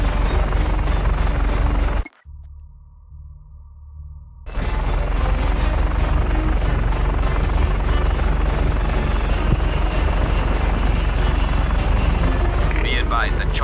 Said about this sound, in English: Be advised that chopper support is approaching your location.